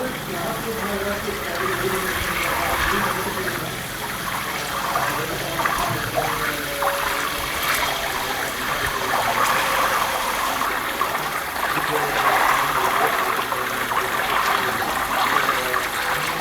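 Home-made ghee bubbling and sizzling in a pan on the stove, a steady, dense crackling and frothing hiss that stays fairly loud and even throughout, with no talk.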